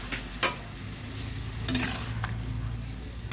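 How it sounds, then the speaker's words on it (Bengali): Water goes into a pan of pumpkin and drumstick curry, setting off a sizzling hiss with a few sharp clinks and splashy bursts against a low, steady background. "এবার দিয়ে দিচ্ছি একটুখানি জল"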